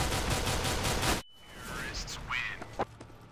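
Automatic rifle gunfire from Counter-Strike: Global Offensive, a dense loud burst of rapid shots filling the first second, then stopping abruptly, followed by quieter game sounds.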